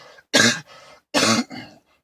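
Two sharp, harsh coughs close by, each followed by a short rasping throat sound, separated by a brief pause.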